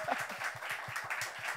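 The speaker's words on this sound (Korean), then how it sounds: "박수 한번 쳐주세요." A crowd at a church summer youth camp gives a short burst of faint, quick, rhythmic clapping, heard from a distance.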